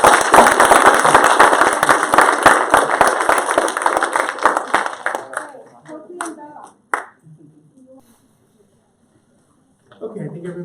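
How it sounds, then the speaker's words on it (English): Audience applause at a law and public safety forum, a dense burst of clapping that fades out after several seconds, followed by a sparse pause and a voice speaking. "let's give a big round and applause to"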